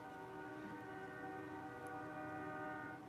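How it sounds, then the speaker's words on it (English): A train horn blares in a long, steady, chord-like blast, sustained without a break and fairly faint, as if from some distance. "The train horn is going off again"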